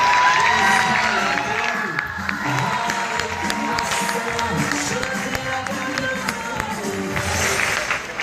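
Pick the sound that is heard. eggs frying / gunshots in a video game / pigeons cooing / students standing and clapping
students standing and clapping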